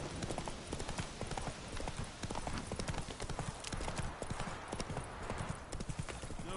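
Roach the horse galloping in The Witcher video game, a fast steady clip-clop of hooves that runs continuously, loud and close, filling the whole stretch with dense rhythmic beats.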